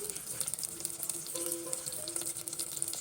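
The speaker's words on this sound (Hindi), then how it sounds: "अब हम मसाले को अच्छे से भून लेंगे।" Spices sizzling and frying in a pan for restaurant-style daal mash, a steady bright crackle with occasional stirring, fairly quiet and continuous with no voices.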